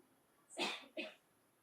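Two quick, fairly faint coughs, one right after the other, in a quiet room at an open mic event.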